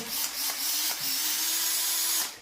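Parkside 12-volt cordless drill boring holes, its motor whining in short bursts that rise and dip with each hole, close and loud, no talking.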